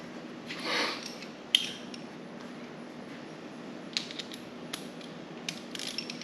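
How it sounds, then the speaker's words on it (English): A clamp is tightened while a 36-inch fishtail exhaust is fitted to a Harley-Davidson Ultra Limited, giving a few faint metallic clicks and creaks over a steady low hum. "Tighten up our clamp."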